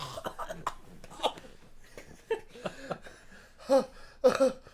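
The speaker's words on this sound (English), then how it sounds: "his body stiffened with a racking cough, which alarms Poe" Several hoarse coughing bursts break up the sound, the loudest coming near the end, mixed with breathy vocal noises.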